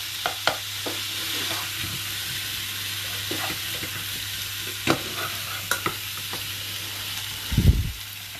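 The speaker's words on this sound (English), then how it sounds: "The more you let it fry, the more the potato skin will get crispy." Boiled baby potatoes fry with garlic in a pan, a steady close sizzle and hiss broken by scattered pops and scrapes of stirring, with a heavier clunk near the end.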